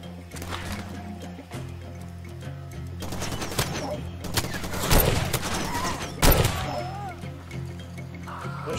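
Gunfire erupts in the Far Cry 2 shooter, scattered bursts and single shots cracking at varying distances, some loud and close, with a voice talking in between.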